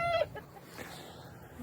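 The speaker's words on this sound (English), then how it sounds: "Carrying chickens across our homestead, all in the name of love" Chickens being carried across a homestead give short, close clucks and squawks, one brief louder call at the start, then softer fowl noises over rustling handling.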